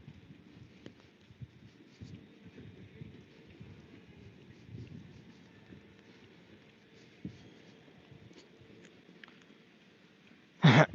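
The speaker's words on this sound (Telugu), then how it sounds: "పెరిగింది ఇప్పుడు కొంచెం వర్షం ఇందాక అంత లేదు" Rain falls steadily in London, a continuous soft hiss with scattered patter close by, ending in a brief louder knock.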